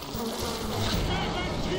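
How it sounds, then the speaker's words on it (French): A buzzing bee swarm in the video game BioShock drones continuously, a dense humming texture that stays steady throughout. "déjà on va balancer les abeilles"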